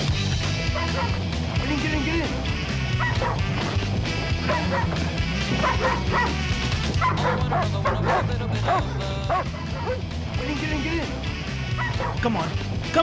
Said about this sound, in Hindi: अरे कुत्ते भौंक रहे हैं।